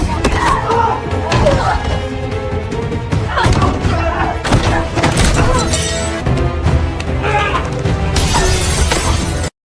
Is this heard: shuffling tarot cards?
no